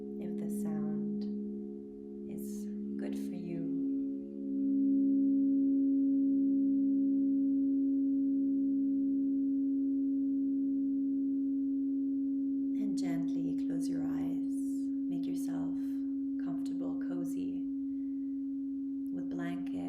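Singing bowls ring during a sound bath, producing a long sustained tonal hum that holds steady throughout. A soft voice speaks quietly over it at the start and again later.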